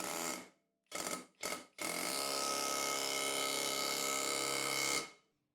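A Skil PwrCore 12V cordless autohammer drives patio and deck nails, giving three short buzzing bursts and then one long steady rattling drive that stops abruptly, close up and with no talking.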